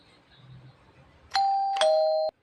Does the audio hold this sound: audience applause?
no